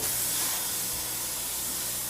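Spray foam insulation, closed-cell or open-cell, going into a wall cavity, heard as a brief, steady hiss at moderate loudness with no voices.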